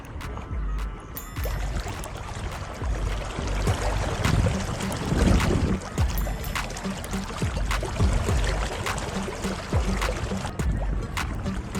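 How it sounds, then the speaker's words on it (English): Water splashes and churns steadily as a small pedal-driven boat moves along the sea at Mombasa, Kenya, with rhythmic paddling sloshes and a constant watery rush. "Pedaling forward means driving the boat forward, while pedaling back means braking or reversing."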